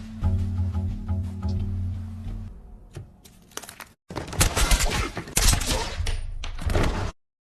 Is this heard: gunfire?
yes